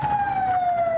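An ambulance siren in war-torn Mosul gives a steady, loud wail that slowly falls in pitch, heard alone over a low rumble of traffic.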